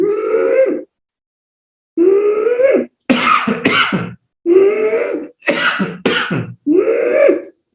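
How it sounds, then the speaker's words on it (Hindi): Several harsh coughs and throat-clearing bursts come close to the mic in separate fits, with brief pauses between them and no talking. "इसमें आपको खांसी आएगी"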